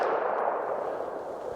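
A single 9mm round fired from a Glock 19 pistol, heard as a loud, noisy blast that rolls on in a broad, slowly fading echo.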